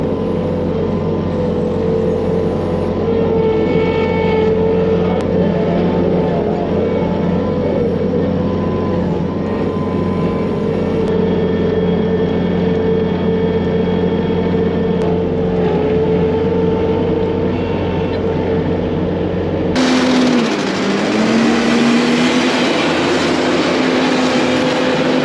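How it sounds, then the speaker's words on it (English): A tractor pushes a tire scraper through manure in the pit beside a new pack barn, its engine droning steadily and fairly loud throughout, with the pitch dipping and shifting near the end. "Gonna be using a good old tire scraper."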